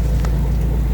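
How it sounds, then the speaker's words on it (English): A sailboat's motor drones at a low, steady hum underway toward Annapolis, with a faint brief swish of wind or water over it. "as you can hear, we do have the motor on"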